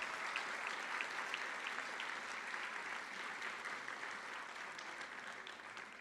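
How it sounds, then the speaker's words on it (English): An audience at an evening awards ceremony applauds curriculum award winners, a continuous even round of clapping that sounds distant and fairly faint. "Let's give another round of applause for our Curriculum Award winners."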